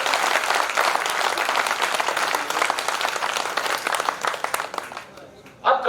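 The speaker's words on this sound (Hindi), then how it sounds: "एक बार जोरदार ताली राष्ट्रीय कवि कमल मनोहर जी के लिए बजाना चाहिए" Audience at a Hindi poetry gathering (kavi sammelan) gives the national poet Kamal Manohar a long burst of loud, dense clapping that fades toward the end before a brief final rise.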